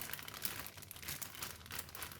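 A plastic bag crinkles softly and steadily as marinated pork belly is packed into it for soy-braised pork, a faint rustling with no talk.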